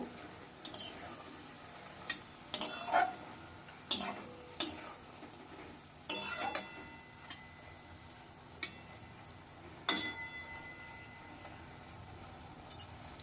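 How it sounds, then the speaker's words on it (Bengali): Stirring a pan of small-fish chochori produces sparse, irregular clicks and scrapes of a spatula against the pan, each a brief knock separated by quiet pauses, close and fairly faint. "এবার একটু নেড়ে দেব"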